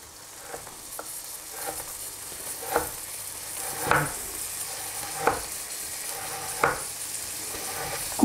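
Slices of salmon frying in a hot pan, giving a steady close sizzle with a few soft clinks and stirring knocks, and no talk over it.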